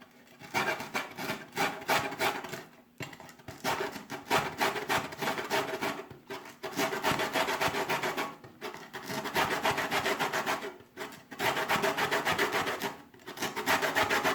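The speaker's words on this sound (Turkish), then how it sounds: "Şimdi portakal kabuklarımızı rendelemeye başlayalım." Orange peels grated on the fine side of a hand grater in a home kitchen, with repeated bursts of scratchy rasping separated by short pauses as the fruit is turned.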